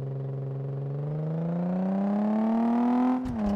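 A car engine revs steadily upward in pitch in Car Mechanic Simulator 2014, a smooth rising drone, then cuts off abruptly with a brief clatter.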